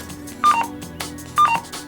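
Two short electronic button beeps from a Uniden HomePatrol-1 scanner, each a brief two-tone chirp, spaced about a second apart over a faint steady hum.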